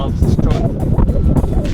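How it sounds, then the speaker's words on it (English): Strong gusty wind buffets the microphone outdoors, a constant low rumble with bursts, while someone talks over it. "And I apologize for the wind, it's really windy out here."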